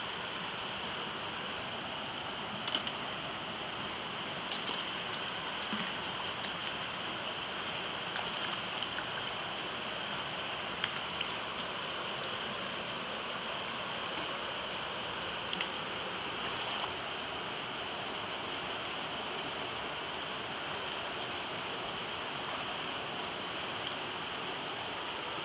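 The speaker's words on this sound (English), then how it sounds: "All right, second river fording of the day." River water rushes steadily at a river fording, a continuous broadband roar of flowing current close by with faint scattered splashes and no voices.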